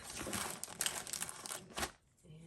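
Tape being pulled and torn for a paper-craft flip book, a dense crinkly rasp lasting about two seconds, then a sharp cutoff into near quiet.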